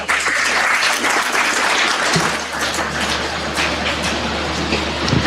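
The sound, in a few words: audience applause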